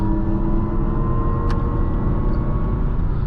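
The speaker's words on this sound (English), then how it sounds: "These are new sounds they've developed for this car and I guess for their future EVs" Lexus RZ450e electric car playing its synthetic driving sound while on the move, a steady hum with layered tones over road rumble and a brief faint tick partway through.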